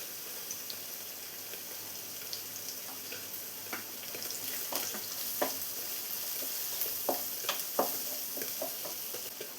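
Onion with curry leaves and turmeric sautés in a pan, giving a soft, even sizzle close by, punctuated by light scraping ticks as the mixture is stirred.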